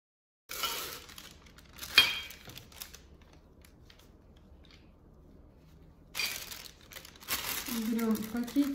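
Plastic bag crinkling close up in short bursts, with quiet pauses between the rustles.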